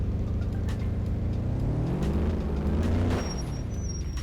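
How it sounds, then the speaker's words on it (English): A massive truck in the Rigs of Rods driving game grinds along with a heavy engine drone, its pitch rising and falling, and a thin high brake squeal appears briefly near the end. "That is a very strange brake squealing sound effect"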